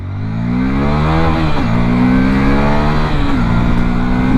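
The engine of a Hero Xtreme 160 4V motorcycle revs loud and close while accelerating, its pitch climbing steadily through the gears with two brief dips at the shifts, and no talking.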